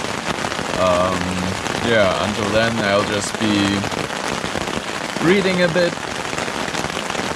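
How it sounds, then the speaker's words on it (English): Heavy monsoon rain drumming steadily on a tent in the Alps, a dense constant patter heard from inside while someone talks over it. "See if this absolute monsoon rain is gonna stop anytime soon."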